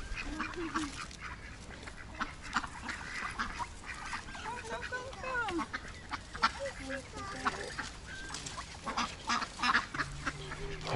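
Crested ducks gathered by the water near a castle in Germany, quacking repeatedly in irregular bursts and overlapping calls, fairly close and clear, with soft outdoor background noise.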